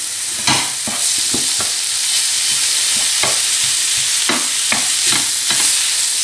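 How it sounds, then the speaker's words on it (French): Ground meat and peppers fry in a pan over medium heat, a steady close sizzle broken by repeated scraping stirs of a utensil, with no talking. "je vais la laisser cuire à feu moyen en la retournant régulièrement jusqu'à ce qu'elle soit bien ramollie et bien cuite"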